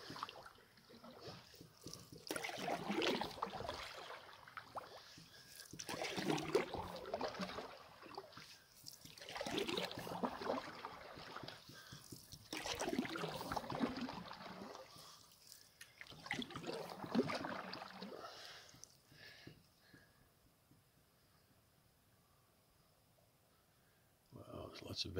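A canoe glides on calm, vegetated water, with soft, rhythmic swells of paddle swish and trickling drips every few seconds, faint and close, fading to near quiet at the end.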